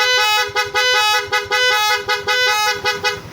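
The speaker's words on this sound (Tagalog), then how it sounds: "Stock horn." A stock motorcycle horn sounded in a series of short, loud, close blasts in a quick, stuttering rhythm, each beep a harsh buzzing tone with abrupt cutoffs between presses.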